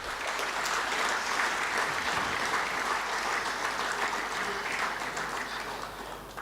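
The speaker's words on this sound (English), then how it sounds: "Can we give them a round of applause as well?" Steady applause from an audience at a rugby union awards evening, greeting young referees, fills the whole stretch with dense clapping that stays even before easing slightly at the end.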